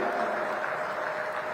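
Faint, steady audience applause greets Dharmveer at a political gathering in Mahendragarh, a brief, even patter of clapping heard from a distance.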